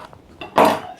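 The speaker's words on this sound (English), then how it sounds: "Let's cut into it and see how it looks." A knife slicing into a freshly baked, cooled loaf of country seeded bread gives a short, crisp crunch of the crust, near and brief, with no talking.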